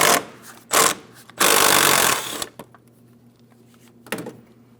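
Removing a 10mm mounting bolt from the hood latch of a 2015-2025 Ford Transit 250 with a power tool: several loud, short bursts of whirring, one longer run, then faint clinks and a final brief burst.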